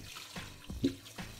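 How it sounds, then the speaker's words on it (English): Water is poured over dried food in a container to cover it, giving soft, gurgling splashes and trickles in short bursts, close and fairly quiet with nobody talking. "I'm going to cover it with water."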